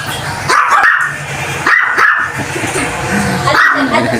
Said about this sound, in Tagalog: medyo maingay, may maraming aso dito